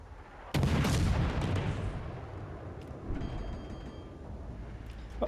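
A single heavy gunshot sounds in a video game, a sharp boom followed by a long rumbling decay and faint ambient noise.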